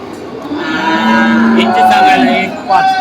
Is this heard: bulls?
yes